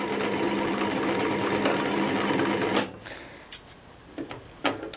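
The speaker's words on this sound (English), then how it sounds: "You can also fill a bobbin as you're sewing, of course." Juki LU-562/563 industrial sewing machine running steadily while winding a bobbin, a loud, close, rapid mechanical chatter that stops abruptly near the three-second mark, leaving a few faint clicks and handling knocks afterward.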